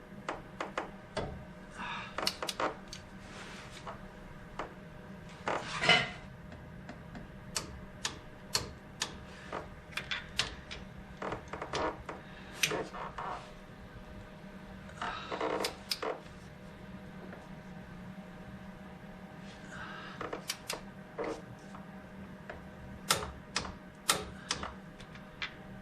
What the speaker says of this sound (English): get your socket on there, and we're going to torque these to 60 foot-pounds